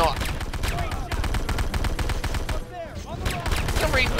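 Rapid assault rifle bursts in C&C Renegade, a dense run of sharp repeated shots firing almost nonstop for several seconds, with brief gaps and overlapping game effects.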